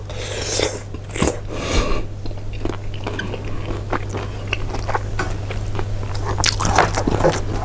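Spicy Thai yam salad being eaten up close, with repeated wet bites, crunching and chewing in irregular bursts over a steady low hum, and no talking.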